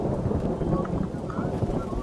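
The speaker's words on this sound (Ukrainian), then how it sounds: "Гроза." A thunderstorm in the game Roblox rolls on as a dense, loud, continuous rumble with a rain-like wash throughout.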